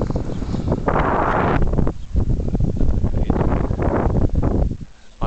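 Strong wind gusts buffet and roar close to the microphone beside a homemade wind turbine, surging and easing repeatedly with a rough, blustery rush.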